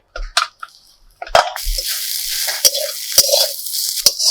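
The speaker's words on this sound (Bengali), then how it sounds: "আমি দু তিনবার ঢাকনা খুলে ভালো করে নেড়ে দিয়েছি আর শাক ভাজা আমাদের হয়েই এসেছে" Leafy greens frying in a pan, stirred with a spatula: sharp scraping knocks and clatters break through a dense hiss of sizzling that starts after a brief quieter stretch, close and fairly loud.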